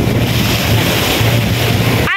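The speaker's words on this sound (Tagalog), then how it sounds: "Malakas na po medyo ang alon kasi hapon na." Strong afternoon sea waves at Lobo, Batangas, heard as a loud continuous roar and wash of surf with wind buffeting the microphone throughout.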